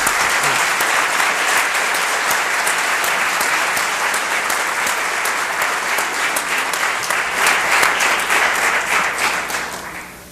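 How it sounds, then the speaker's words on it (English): An audience claps in the Somerville, Massachusetts city chambers during a midterm ceremony. The applause is loud and sustained for about ten seconds, with individual claps standing out, and it fades at the close. "So how about a big round of applause for those people?"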